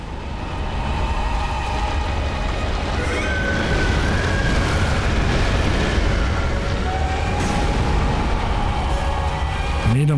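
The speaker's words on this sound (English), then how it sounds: "I need him to spray that lava." Lava-spraying boss attack in the video game Bloodborne, a continuous loud rumbling, roaring wash of fiery noise sustained throughout with faint high swoops over it.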